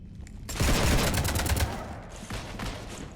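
Rapid gunfire bursts from the video game Mass Effect Legendary Edition, a dense volley of shots followed by a shorter second burst, loud and close with no talking.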